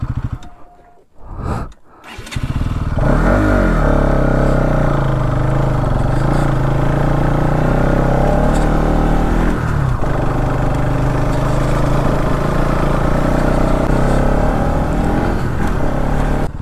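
Second-hand motorcycle engine labouring uphill, a loud steady drone that rises in pitch after a few seconds of idling, then holds under load.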